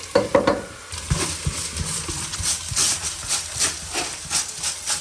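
Rice frying in ghee with bay leaf as it is stirred, an uneven hissing sizzle broken by repeated scraping strokes of a spoon against the pot.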